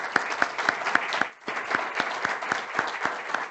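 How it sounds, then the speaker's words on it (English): An audience claps after a talk by Dr. Robert Royal about the Synod in Rome, a steady burst of close applause with distinct individual claps, briefly dipping before resuming. "we'd like to give a great round of applause for the insights that Dr. Robert Royal has just shared with us"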